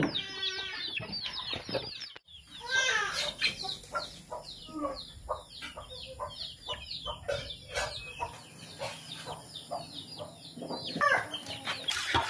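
Several chickens clucking and squawking nearby in quick, irregular bursts, with a brief quieter gap early on before the clucking resumes.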